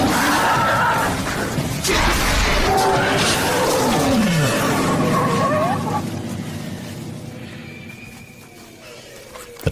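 A tiger roars loudly and close in a wild documentary scene, drawn-out sweeping growls that swell then fade over several seconds, ending in a sharp thud.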